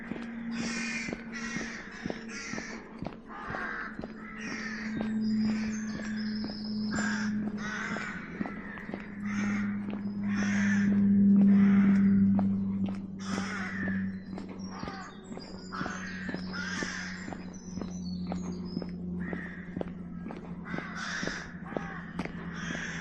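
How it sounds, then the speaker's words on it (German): Crows caw repeatedly in a rapid, steady series across the whole stretch, loud and fairly close, with a low hum running beneath them on an outdoor hike. "Die Krähe?"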